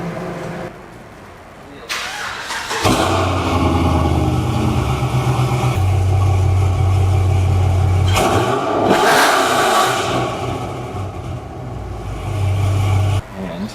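A turbocharged K24-swapped Toyota MR2's engine revs loudly and holds a steady roar, rising in pitch and then easing off, with voices briefly audible over it.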